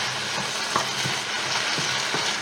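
Vegetables cook gently in a frying pan as a soft, steady sizzle, broken by a few faint stirring scrapes and pops. No one speaks.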